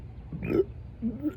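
After thirty sips of carbonated root beer, a person lets out a low, croaky burp at close range, followed by a couple of smaller gulping burp sounds.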